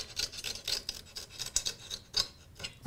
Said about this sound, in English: take a good old sharp knife and trim any edges that might be on the mirror